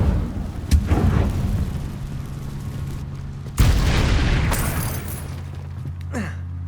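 Incendio fire spell blasts in Hogwarts Legacy land as two loud booming bursts, each followed by a rumbling, crackling decay, with a short whoosh at the end.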